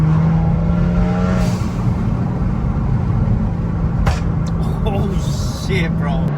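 Straight-piped Kia Stinger with exhaust valves open, a loud, close, rumbling engine drone holding steady with small revs, under people talking excitedly.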